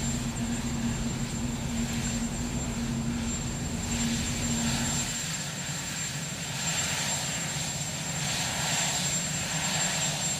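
A presidential helicopter runs with a steady, loud engine drone and a low rotor hum as the president boards; the tone shifts partway through but the sustained roar continues throughout, with no talking.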